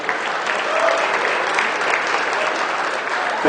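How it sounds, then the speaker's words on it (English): A crowd at a dog charity auction claps loudly for auctioneer Colonel Bruce Brock, dense continuous applause filling the full span with no talk over it. "let's bring back Bruce Brock with a big Ho-Chunk round of applause"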